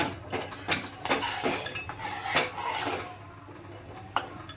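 Pudding stirred in a metal pot, a spoon scraping and knocking against the sides in an uneven rhythm with a few clinks, close by and without speech.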